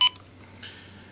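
A short electronic beep from an Apeman H55 trail camera at the start, followed by a fainter second tone a moment later.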